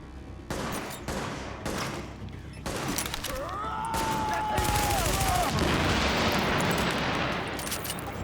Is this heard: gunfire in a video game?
yes